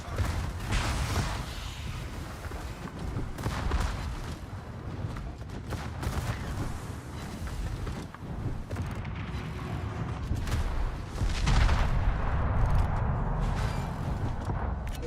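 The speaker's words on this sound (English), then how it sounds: "All stations, concentrate fire on the target." Heavy ship artillery fire in the World of Warships video game, booming salvos rolling one into the next with dense, rumbling low end and sustained battle noise throughout.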